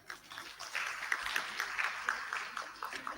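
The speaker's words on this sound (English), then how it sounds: "Give a huge round of applause." Audience applause for a chief guest at a university conclave, a soft, steady patter of many hands clapping heard from a distance.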